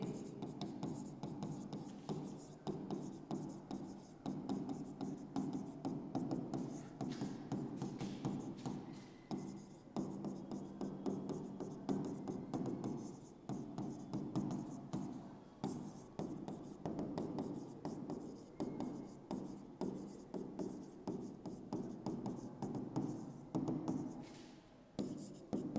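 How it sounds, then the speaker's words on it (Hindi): A pen scratches steadily across paper as a math problem is written out, with a continuous rhythmic rasp of close strokes and brief lifts between them, and faint speech underneath. "पहले दी हुई सारी चीजें लिख लीजिए"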